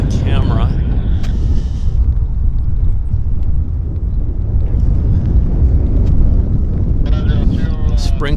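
Heavy wind buffeting a microphone at Vancouver Airport (YVR) during rain, a constant low rumbling roar throughout, with faint voices at the start and end.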